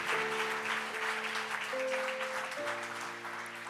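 A church congregation applauds over sustained keyboard or organ chords that shift pitch, the clapping a dense continuous patter at moderate volume with no talk over it.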